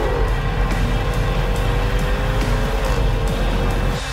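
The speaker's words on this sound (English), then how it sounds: "rasp out the distinctive SVR soundtrack from the unique exhaust system" Exhaust of a 2019 Jaguar F-PACE SVR performance SUV, a loud continuous engine roar with a rising rasp, heard close and steady throughout.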